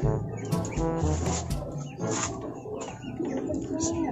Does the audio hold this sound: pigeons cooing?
yes